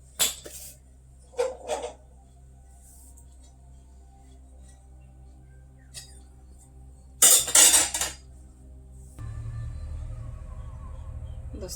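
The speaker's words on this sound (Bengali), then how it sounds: "কড়াই বসিয়ে দিয়েছি" A wok is set on a home kitchen stove amid pots and pans clattering in a few sharp metallic bursts, with a loud cluster of clangs near the end, followed by a low steady hum of the burner.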